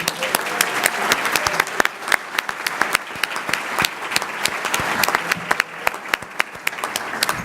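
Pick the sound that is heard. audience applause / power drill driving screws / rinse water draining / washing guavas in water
audience applause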